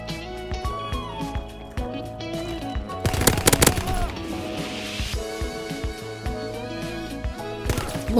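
Rapid automatic gunfire with sharp impact cracks from a Call of Duty match, including a distinct headshot hit sound, loud and dense around the middle with game music and effects running underneath throughout.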